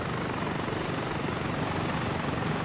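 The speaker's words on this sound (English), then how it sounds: "That police heli looks so fucking cool." A police helicopter flying in Arma 3, its steady dense rotor and engine roar filling the whole stretch at constant loudness, close by and without any voices.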